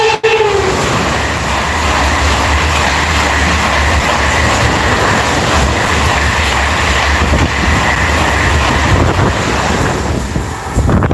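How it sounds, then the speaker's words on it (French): A TGV high-speed train rushes past close by, a loud sustained roar of rail noise and wind buffeting the microphone for the whole stretch, with a brief horn-like tone right at the start. "Un TGV."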